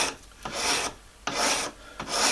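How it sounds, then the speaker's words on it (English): A file rasps in long, steady strokes across a carved bone fish hook being shaped by hand, four close, loud passes with brief pauses between them and no talk. "This is a good spot right here that I can go to a larger file because there's nothing to hit."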